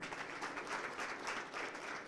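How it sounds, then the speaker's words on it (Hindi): Applause from a gathering of farmers at an agricultural forum in Hisar on stubble management, a fairly faint but continuous patter of many hands clapping at a distance. "तो आप अपना भी स्वागत जोरदार तालियों से कीजिए"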